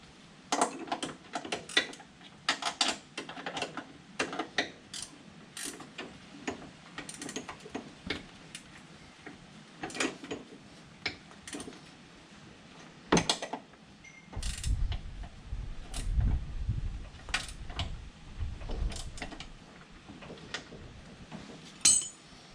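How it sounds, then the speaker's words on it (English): Socket wrench tightening bolts on the three-point hitch of a John Deere 425, 445 or 455 tractor: rapid metallic ratchet clicks in bursts, close up, with clanks and a rougher grinding stretch midway. "clearly you might want to use a socket in these cases"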